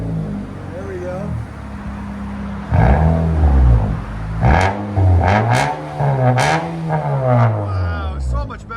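A 2020 Nissan Altima SR with a 2.5-liter four-cylinder and straight-piped exhaust revs loudly at close range, a rough idle breaking into several rising and falling throttle blips, with no talk over it.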